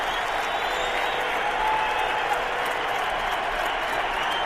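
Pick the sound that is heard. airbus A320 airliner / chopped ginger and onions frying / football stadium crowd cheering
football stadium crowd cheering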